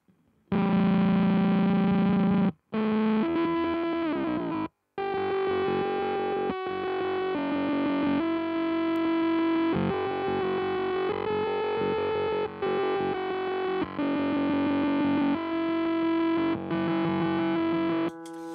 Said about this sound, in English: you use the whammy to change the pitch to whatever you want it to be